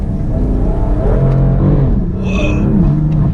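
BMW M4 with the tuned S55 engine accelerating hard in first gear with wheels spinning, a loud close engine roar with rising revs and a brief high whine near the end.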